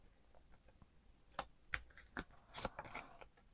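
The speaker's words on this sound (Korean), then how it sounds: "이 깜짝 선물이 4장의 카드 열어볼게요" Tarot cards being turned over on a table, a few soft, quick slaps and rustles in a quiet room, faint and close.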